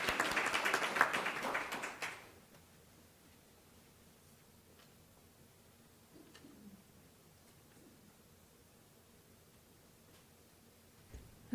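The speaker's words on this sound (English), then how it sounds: "So let's give her a round of applause." A town board meeting audience claps briefly, a short burst of about two seconds that stops abruptly and leaves a quiet room with faint scattered sounds.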